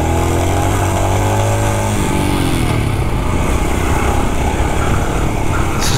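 A 2023 Royal Enfield Scram 411 scrambler motorcycle rides a small off-road track, its single-cylinder engine loud and close with a steady droning note that shifts pitch as the rider changes throttle, accompanied by wind rush.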